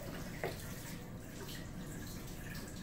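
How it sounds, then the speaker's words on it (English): Tap water runs steadily into a sink as hands are rinsed clean of soap suds, a continuous close hiss with a brief splash near the start and no talking. "Everything's going down the sink, downward, down the drain."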